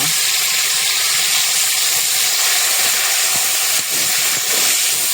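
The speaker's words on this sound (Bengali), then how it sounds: "এখন মশলা ভুনে নেওয়া হচ্ছে রান্নার জন্য" Ginger, garlic, onion and cumin spice paste frying in a pan, a loud, constant close hiss that swells slightly near the end, with no talk.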